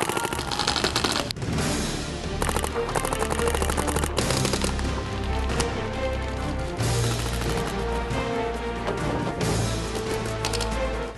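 Paintball guns firing during a paintball game at a field in Surrey, a dense, continuous clatter of rapid pops and bursts over busy background noise throughout.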